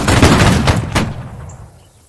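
A line of battle fires a rifle volley: a loud, ragged crash of many muskets going off nearly together, a few staggered shots, then the blast rolls away into a fading echo.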